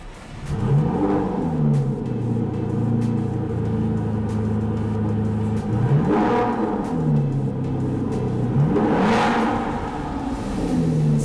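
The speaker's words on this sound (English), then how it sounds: "to hear this V12 come alive" An Aston Martin Vanquish V12 comes alive and is revved close by, its deep rumble swinging up and down in several distinct rev sweeps over a steady idle.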